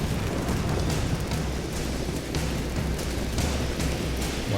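Fire catching and burning in Rise of the Tomb Raider: a steady roaring, crackling rush of flames with low rumbling bursts, sustained and fairly loud with no talk.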